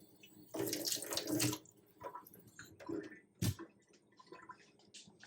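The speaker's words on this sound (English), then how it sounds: "We're gonna rinse the tomato, make sure it's clean." A tomato rinsed under a running kitchen tap, with a short close splash of flowing water followed by lighter trickles and a sharp brief splash, fairly faint overall.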